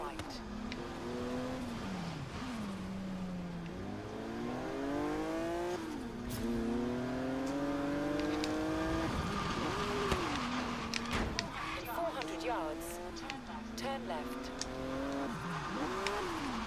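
Car drifting in the racing game Forza Horizon 3, Hot Wheels setting: a revving engine with rising and falling pitch and long screeching tire squeals, loud and continuous, with a voice talking over it.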